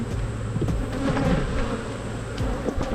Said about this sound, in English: Yeah, a decent amount of bees.